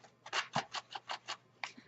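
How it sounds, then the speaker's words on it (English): Quick, close snips of scissors cutting paper, about eight short crisp cuts in an uneven rhythm. "come in with my scissors and really rough up the edges here"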